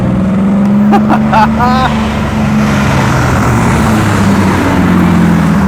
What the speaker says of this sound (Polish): Zobacz tą rzędową szóstkę. Przez tą rurę wydechową wchodzi tak, że wszystko się trzęsie tu wokół.